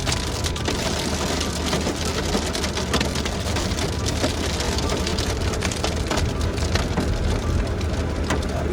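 Large hail, some stones ping pong ball sized, pelts hard surfaces during a Canadian storm, a dense clatter of sharp impacts over a steady roar, continuous and moderately loud with no speech.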